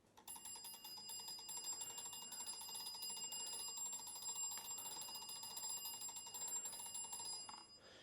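An old telephone dynamo is hand-cranked with a rapid ratcheting, gear-whirring clatter as it drives an electric bell that rings continuously with bright metallic tones for about eight seconds before stopping.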